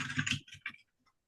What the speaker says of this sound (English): you are typing?